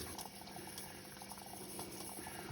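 A newly installed dishwasher filling with water, a soft steady hiss and gurgle of running water inside the tub, faint and continuous with no talking.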